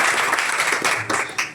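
A classroom audience claps for Class 12 arts students as their roll numbers are called. The applause is brief, dense and close.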